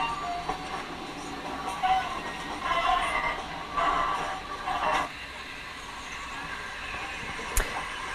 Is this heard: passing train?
yes